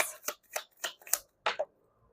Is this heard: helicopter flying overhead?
no